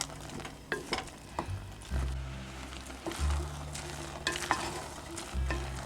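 Macaroni cooking in a pan, stirred with a spoon: a continuous sizzle under repeated scraping strokes and low rumbling bursts, fairly close.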